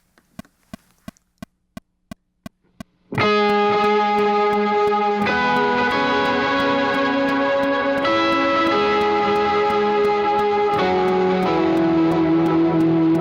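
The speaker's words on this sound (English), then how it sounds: "So again, I'm going to turn on a little heavier drive, chorus, verb and delay," Electric guitar through heavier drive, chorus, reverb, delay and an octave-down POG pedal, entering after a few seconds of sharp rhythmic clicks and then sustaining thick, loud, washy chords with long ringing tails and no talking.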